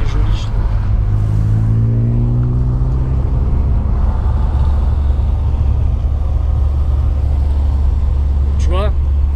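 A car drives slowly up a wet mountain road in Japan, its engine rumbling close and steadily as it rises in pitch under gentle acceleration, with a brief squeak near the end.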